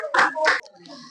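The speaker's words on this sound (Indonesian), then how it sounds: "Tepuk tangan dulu untuk Jamir, Nur Ain, dan Renjiro." A classroom of children clap briefly in a couple of quick bursts, fairly close, followed by a faint murmur of voices.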